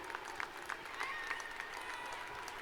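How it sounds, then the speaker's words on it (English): Crowd applause at a high school graduation ceremony for the class of 2022, a steady mid-level wash of clapping with some cheering voices and a few sharper claps standing out. "Yeah, clap it up for them."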